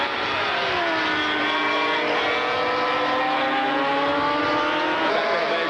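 Racing motorcycles at the 1984 Daytona 200 roar past on the track, a loud, continuous high-revving engine drone with rising and falling pitch as the machines sweep by, no talk over it.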